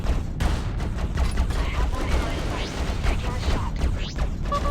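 A wingman's guns fire in the Freelancer space game as a dense stream of rapid pew shots over a steady mechanical hum, a few brief laser-like sweeps cutting through near the end.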